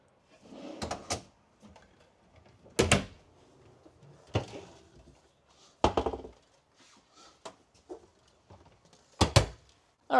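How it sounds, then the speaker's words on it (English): Pull-out drawers and cupboard doors in a 2025 Forest River RiverStone 421FK trailer open and shut with about five sharp wooden thunks and slides, close by and spaced irregularly with quiet gaps between them. "Lots of pull-out drawers."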